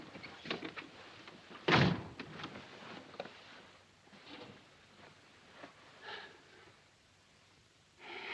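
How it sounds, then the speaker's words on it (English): A door shut in a 1942 wartime film scene, heard as one sharp, loud thud near the start, followed by quiet room tone and faint soft movement. "Shut the door."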